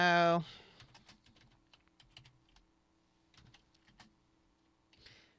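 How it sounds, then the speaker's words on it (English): Someone typing a question on a computer keyboard, a short burst of light plastic key clicks spread unevenly over several seconds, close and soft, after a brief loud tone at the start. "I'm going to type in my question here."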